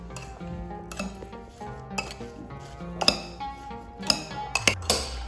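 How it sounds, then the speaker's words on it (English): Spoon scraping and clinking against a bowl while peach fritter batter with coconut sugar is mixed, a run of close, irregular metallic clinks and taps building to sharper knocks near the end. "Give a nice mix"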